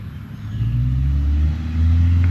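A car engine rumbles steadily and revs up as the car pulls away, a loud, low drone that rises near the end with no voices over it.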